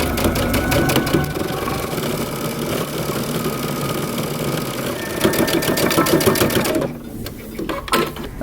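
A sewing machine stitches down a hem in coat or vest fabric, its fast, steady mechanical whirring running for several seconds, loud and close, before it slows and stops near the end.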